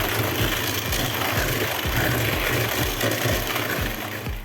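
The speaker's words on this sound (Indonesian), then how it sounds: "Selanjutnya kita akan mixer menggunakan kecepatan rendah aja sampai gulanya larut." An electric hand mixer runs on low speed beating egg yolks with granulated sugar, giving a steady whirring motor drone with a regular rhythmic thumping as the beaters turn through the bowl.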